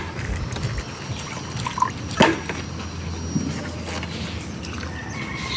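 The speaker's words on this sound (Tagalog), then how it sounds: "lagyan na natin ng suka" Vinegar is poured into a dish being cooked, a faint, brief trickle and splash against a soft kitchen background with a few small drips.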